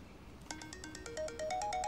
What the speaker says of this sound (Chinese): 我接个电话。